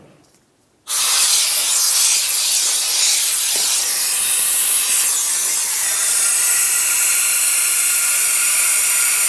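A coolant vacuum-fill tool on a 2000-2006 Chevrolet Tahoe cooling system lets out a loud, steady hiss that starts abruptly and holds constant to the end.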